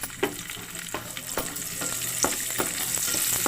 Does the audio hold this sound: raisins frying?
yes